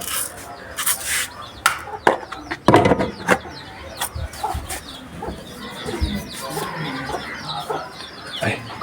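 Several farmyard chickens cluck nearby in a busy, overlapping chorus, with scattered rustling and scraping sounds and no clear talk.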